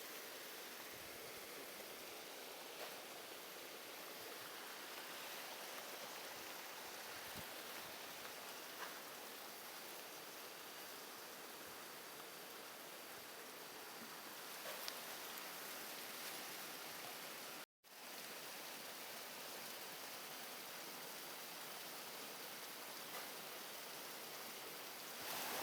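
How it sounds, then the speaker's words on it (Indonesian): A fast-flowing village stream in the countryside gives a steady, even rushing wash of water with no pauses, close and unbroken except for one momentary dropout. "Air mah mengalir deras pokoknya mah"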